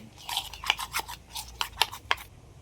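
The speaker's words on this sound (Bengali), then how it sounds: "এগুলো সব একসাথে একটু মিশিয়ে নেব" Dry chilli, coriander, cumin and black pepper powders are stirred together with a spoon in a bowl, giving a run of soft, close scraping rubs in uneven bursts with short pauses between.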